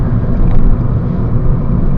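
Toyota Avensis 1.8 from 2007 driving around a corner, heard as a steady low engine and road rumble close by, with no talking.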